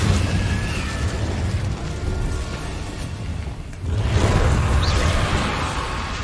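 Fiery spell burst of Incendio in Hogwarts Legacy, a sustained roaring whoosh and crackle with a dip and a renewed surge, loud and dense, no voices.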